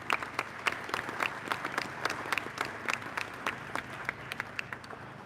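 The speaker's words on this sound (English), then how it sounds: "Let's give another round of applause." Audience at a community gathering in Glendale applauds performers, a sparse, moderately distant patter of individual claps with distinct sharp hits, fairly quiet and steady.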